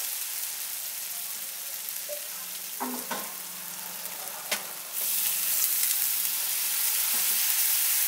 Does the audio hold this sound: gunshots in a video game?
no